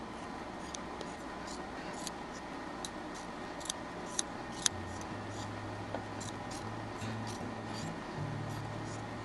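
Scissors trim small fabric pieces in a quiet room, giving faint, irregular snips scattered over a low background hum, with no talk.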